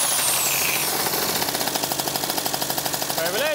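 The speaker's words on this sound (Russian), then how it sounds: "Но как только я попытаюсь его завести" A Derbi GP1 scooter with an electrical fault is cranked to start. A loud, close, rapid mechanical pulsing fills the clip, with a brief rising whine near the end.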